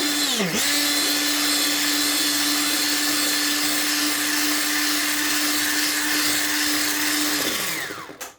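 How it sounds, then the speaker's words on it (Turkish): Eggs beaten with an electric mixer for a zebra cake batter, a steady high motor whine running close and loud for several seconds before winding down at the end, no voices. "Bu 4 tane yumurtayı aldıktan sonra hemen birazcık bir çırpacağım."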